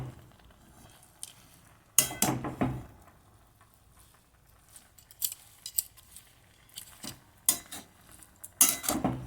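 Radish being stirred with turmeric and salt in a pan, heard as intermittent clinks and scrapes of a utensil against metal, sharp bursts separated by quiet gaps, with no talking.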